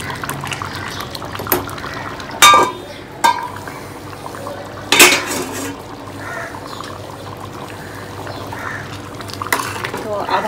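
Dried pea chole being stirred in a covered pot, with occasional sharp clinks and scrapes of a spoon against the metal over a low, steady simmer, with faint talk in the background.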